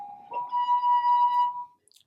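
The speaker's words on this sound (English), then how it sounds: "The pitch is produced when they rub their finger on the rim of the glass" A wet fingertip rubbed around the rim of a wine glass holding water rises into a clear, steady singing tone that holds for over a second and then stops abruptly, close and alone.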